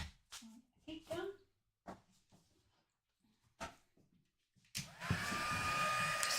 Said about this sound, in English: Just going to bring my heat gun in, so forgive the noise